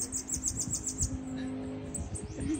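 A sibite bird sings outdoors in a series of rapid, bright high chirps, fairly close, over a steady low hum and faint rustling.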